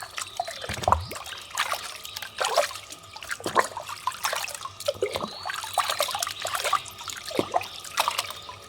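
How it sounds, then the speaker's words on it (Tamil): Water splashes and trickles as brass pooja vessels are rinsed by hand after scrubbing with soap, with irregular pours, drips and clinks of metal, close up. "இப்போ நம்ம கழுவிக்கலாம்."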